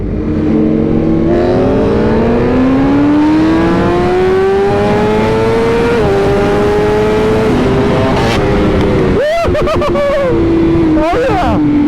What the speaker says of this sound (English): Now Jaret's going to ride the V4R, got it, and I'm going to jump on the M